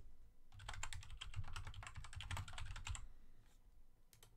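Fingers type a name on a computer keyboard in a quick burst of close, soft key clicks lasting a few seconds, followed by a couple of isolated taps in a quiet room.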